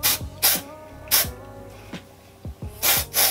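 Several sharp bursts of dry shampoo aerosol spray, close and loud, in uneven short pumps with brief pauses between them.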